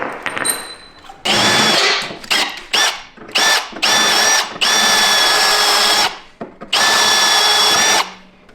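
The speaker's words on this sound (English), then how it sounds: "this one I'm gonna have to drill the rest of the way through" A power drill whirs in repeated bursts while drilling through a Ski-Doo Gen 5 skid plate, short stuttering pulses at first, then several long loud runs with brief pauses between.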